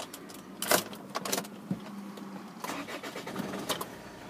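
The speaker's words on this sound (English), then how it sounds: "just getting the vehicle started up for you guys." A diesel Land Rover Freelander TD4 with manual gearbox cranks and fires up, with a few brief mechanical clatters and key or interior noises before a low engine idle settles in.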